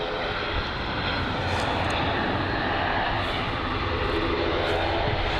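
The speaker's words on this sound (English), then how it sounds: "So that's plain, the ATR 72-500." ATR 72-500 turboprop airliner in plain white livery landing at Bristol Airport, a loud, steady engine roar filling the whole stretch without letup.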